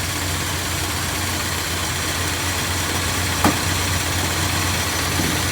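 A 1962 Dodge D200 pickup engine runs steadily and loud throughout, a continuous low rumble with a brief sharp click near the middle and no clear rise in revs.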